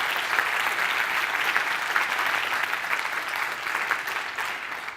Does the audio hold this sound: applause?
yes